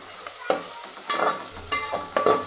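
Large onions sautéing in a pan while being mixed: four distinct scraping stirs of a spoon against the pan, evenly spaced over a low sizzle, close and clear.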